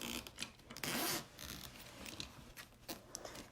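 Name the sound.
zipper head being slid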